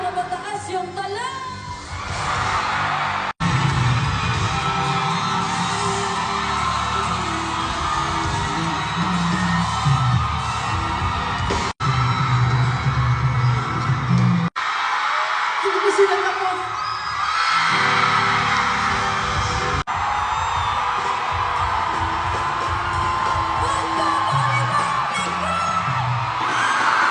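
Dense concert crowd at a Filipino pop show screaming and yelling continuously for nearly half a minute, a loud, roaring wall of voices with surges of shrieks and cheers, briefly thinning in the middle.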